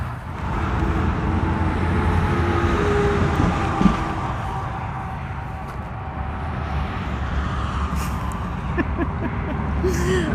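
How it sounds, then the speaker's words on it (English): Steady road traffic noise along Route 66 in Uranus, Missouri, a loud continuous roar of passing cars that swells and fades over the whole stretch. "Sorry about the road noise."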